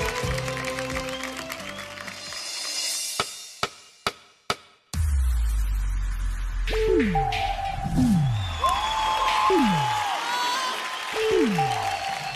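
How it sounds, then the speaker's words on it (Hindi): Audience applause and cheering break out for a dance performance at a televised semi-final, a broad, loud wash of clapping that follows a few sharp music hits and plays under swooping musical sound effects. "एक बार जोरदार तालियां और आकाश"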